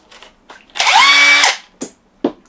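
Cordless power drill running on a multi-tool base, one loud high whine of about a second up close, bracketed by clicks and clunks of the tool being handled.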